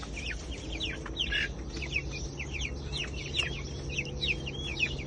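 Chickens in a backyard coop cluck and chirp repeatedly in short overlapping calls, moderately close, over a steady low background hum with no talking.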